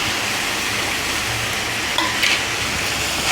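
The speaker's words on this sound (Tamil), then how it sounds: "சேர்த்துட்டு நல்லா வதக்கிக்கலாம்" Finely chopped ridge gourd sautéing in a pan for a ridge gourd and toor dal kootu, a steady close frying crackle with a couple of brief stirring clinks and scrapes near the end.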